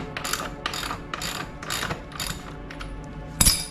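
Ratchet wrench loosening the axle and chain adjuster nuts on a Husqvarna Svartpilen motorcycle, a close series of rhythmic clicking strokes with short pauses, followed by a sharp metallic clank at the end.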